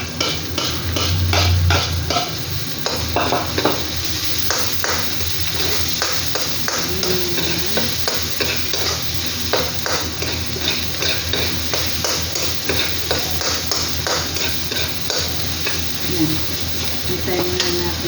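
Onions sautéing in a pan for pininyahang manok, with a steady loud sizzle and a utensil repeatedly scraping and tapping against the pan, close up and continuous.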